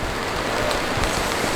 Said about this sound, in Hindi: और बारिश ऑलमोस्ट कंटिन्यू है।